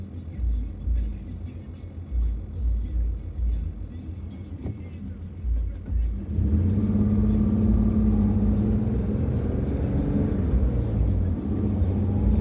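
A car drives along a road from New Westminster toward Commercial Drive in Vancouver, with a steady low engine and tyre rumble that grows fuller and louder about halfway through, and no voices.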